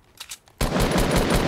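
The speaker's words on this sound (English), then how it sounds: "I'm getting shot from northeast, yeah." Fortnite gunfire from Chapter 1 Season 7: after a brief faint patch, a loud, rapid automatic burst starts abruptly and rattles on without pause, close and dominant.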